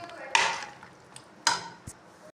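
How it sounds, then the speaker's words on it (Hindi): Masala sautéed with potatoes and turnips in a pot for turnip meat curry, two distinct scraping stirs of a spoon against the pot with a soft clink between them, close and brief. "हम इसकी अच्छे से करेंगे भुनाई।"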